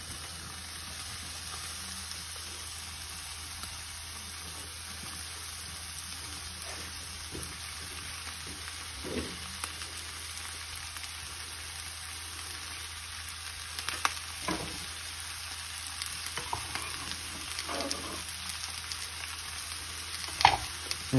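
Onions, mushrooms and cornichons fry in rapeseed oil in a pan with a continuous soft sizzle and occasional stirring clicks that grow a little busier toward the end. No voices are present.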